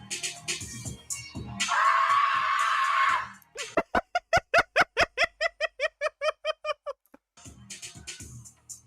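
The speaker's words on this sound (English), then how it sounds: "Oh yeah, there he is screaming." A man screams in a courtroom recording: one loud, sustained cry lasting over a second, then a quick run of short, sharp vocal bursts at a regular pace, with faint background voices before and after.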